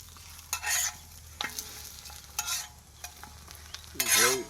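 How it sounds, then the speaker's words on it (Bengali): Pieces of green chicken frying in a pan, with intermittent bursts of sizzling and the scrape of stirring utensils, short loud spurts separated by quieter crackling gaps; no one speaks. "ভাজা হচ্ছে লাল লাল করে"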